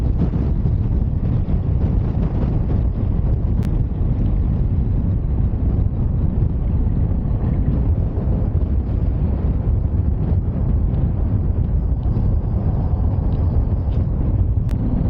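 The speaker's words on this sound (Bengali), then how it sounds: "এত জোরে হাওয়া চলছে" Strong, continuous wind at a high Ladakh mountain pass roars against the microphone as a loud, unbroken rumble throughout, with no voices over it.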